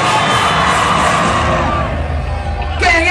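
A large crowd at an MC Daleste baile funk show at Passarela Show in Osasco shouts and cheers loudly and continuously, with yells and whoops rising over the din.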